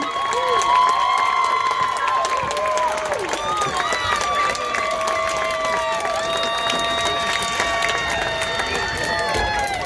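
A crowd cheers and applauds the grand champion and reserve grand champion bands at a high school marching band festival trophy presentation, with loud steady clapping, whoops and shouts filling the space throughout.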